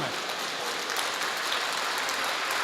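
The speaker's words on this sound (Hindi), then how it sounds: "एक बार आप भी तालियां बजा करके मुझे अनुमति दे दीजिए" Audience clapping at an outdoor Hindi comic poetry gathering in the rain: a dense, even wash of applause throughout, steady in loudness with no break.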